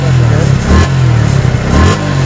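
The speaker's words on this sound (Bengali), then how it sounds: "আর এই পাশে যে সাইলেন্সারের সাউন্ড" Exhaust silencer of a 2023 Suzuki Gixxer FI ABS motorcycle rumbles up close at a steady idle, with brief throttle blips lifting the pitch twice and a voice audible over the engine.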